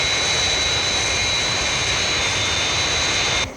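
The Fireflash Mach 6 atomic airliner from Thunderbirds roars with its jet engines in distress at London Airport, a loud continuous whine and rush that cuts off sharply at the end.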